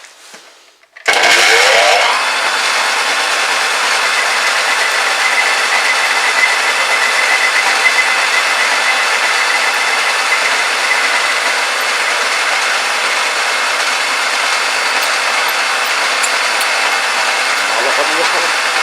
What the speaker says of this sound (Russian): покажу, как работаю концевой фрезой